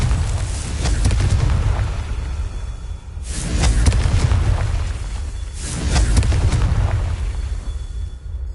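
Confringo blasting spells exploding in Hogwarts Legacy, three loud booming blasts about every two and a half seconds, each rolling off into rumble.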